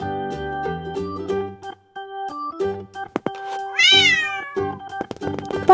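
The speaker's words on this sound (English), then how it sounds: "This is a yellow cat." A yellow cat meows once in a drawn-out, rising call amid light background music, with no talking in the clip.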